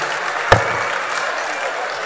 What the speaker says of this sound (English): Let's clap, let's clap, let's appreciate them.